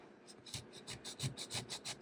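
Rhythmic scratchy strokes of roughly 80-grit sandpaper rubbing with the grain over a wooden kit guitar body, about a dozen quick back-and-forth passes, close and fairly quiet.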